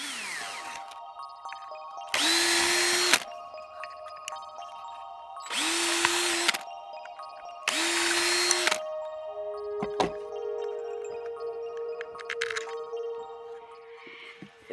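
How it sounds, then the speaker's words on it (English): Power drill boring 4 mm holes for 6G 40 mm MDF screws, three separate loud bursts of about a second each with quieter pauses between, alone with no voices. "I drilled out the holes to 4mm."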